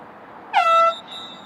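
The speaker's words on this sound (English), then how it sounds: "Air horn sounds." A single short blast of an air horn sounds loudly for about half a second against faint background noise, marking halftime at a girls' varsity lacrosse game.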